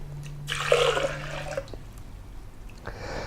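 Spring water poured into a container to make almond milk, a splashing, gushing pour that swells after a quiet start and runs for a second or so, then a brief clatter near the end.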